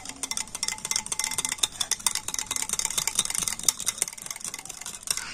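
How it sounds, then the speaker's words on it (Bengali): Sour yogurt is whisked with a hand blender, giving a continuous whirring, clattering buzz with rapid ticking spatters that hold steady and close throughout. "আর এবার একটা ব্লেন্ডার দিয়ে টক দইটা কিন্তু ভালো করে একটু ফেটিয়ে নেব।"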